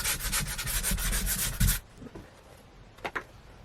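Wood filler putty being spread and scraped over a surface, a dense rhythmic rubbing scrape for about two seconds, then a few quieter isolated strokes, close with no talk.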